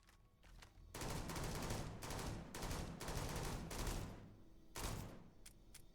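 Rapid bursts of Halo Infinite BR battle rifle fire in a Starfield game mod, loud, close and dense, firing in long volleys with short gaps, then a final few scattered shots.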